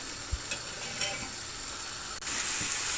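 Chana masala cooks on low heat in a pan, giving a steady close sizzle with soft stirring scrapes and a brief louder hiss near the end.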